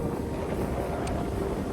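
Wind gusting outdoors near an old cemetery at a manor in New York, a steady rushing roar that buffets the microphone, with no voices.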